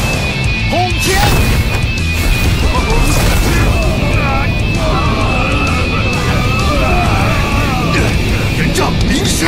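Animated fantasy combat in which the Hunting Fist magic attack strikes with a loud crashing impact, full-band bursts and rumble continuing throughout beneath a character's shouted voice and other talk.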